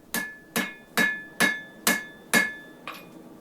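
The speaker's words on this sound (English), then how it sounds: "Now I'm just using the horn of the anvil just to give a little bit of curve to the handle" Hammer striking a cable Damascus knife handle on the horn of an anvil, six ringing metallic blows at an even, steady pace, close and loud, with a softer final tap.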